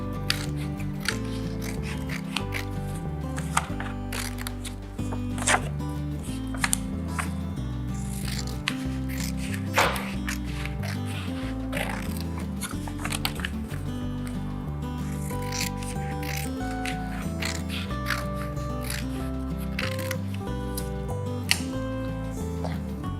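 Paper is cut for a handmade escape-room book puzzle, giving repeated close rubbing and snipping strokes over a steady musical background.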